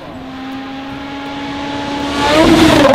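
A sports car engine runs steadily with a rising tonal whine, growing louder toward the end as if accelerating past nearby, with no talk over it.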